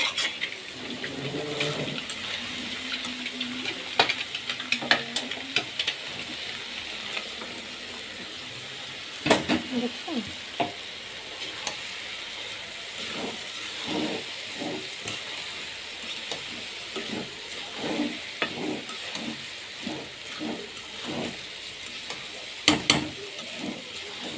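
Egg and vegetables frying in a pan, giving a steady soft sizzle with scattered stirring clicks and scrapes, close by and moderately loud, with a few sharper knocks near the middle and the end.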